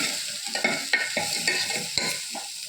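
Cut eggplant sautéing in a pan over a low flame, a close sizzle broken by repeated rhythmic scraping strokes of a spoon stirring, about five or six strokes with no talk.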